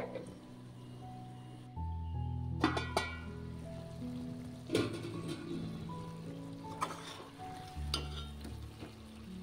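Okra and elephant foot yam pieces fry in a pan, giving a steady sizzle with a few scraping stirs and clatters under a low background hum.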